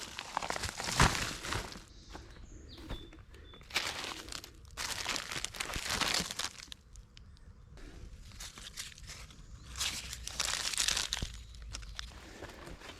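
Cigarette cellophane and plastic packaging wrapper crinkle and crunch up close outdoors in spring, in several bursts of crackling separated by quieter pauses.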